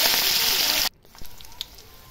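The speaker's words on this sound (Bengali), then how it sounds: "প্রথমে পুঁটি মাছটা ভেজে নিতে হবে" Puti fish frying in hot oil give a loud, dense, steady sizzle that cuts off abruptly, leaving quieter crackles and small pops.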